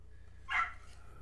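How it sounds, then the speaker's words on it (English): Dogs barking somewhere outdoors, with one faint, brief bark or yip rising once from a quiet background at a distance. "I hear some dogs barking."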